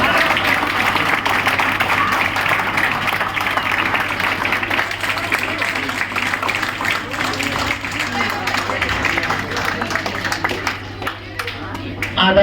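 Applause at a college ceremony at B.N. College fills the hall steadily and loudly for about twelve seconds, with a faint low hum running underneath and the clapping thinning slightly near the end.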